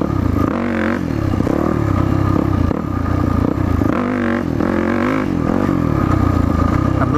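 Dirt bike engine revving loudly and continuously in second gear during a wheelie attempt, with repeated rises and falls in pitch as the throttle is opened and eased, close and alone.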